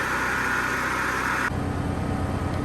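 A Firman generator runs with its quiet shed open, a steady loud engine drone with broad hissing noise, shifting abruptly in tone partway through as the sound continues without pause.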